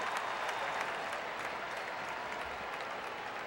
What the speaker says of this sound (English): A nice round of applause for Jose Castillo as he steps in